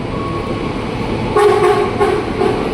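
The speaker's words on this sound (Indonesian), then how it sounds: "ini nih kereta bandara melintas jalur 1" An airport train passes through track 1 at Tanah Abang station, a steady rumble of the moving train with a short tonal horn-like toot partway through.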